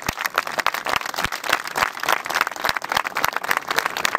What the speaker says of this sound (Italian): Gli facciamo un grande applauso.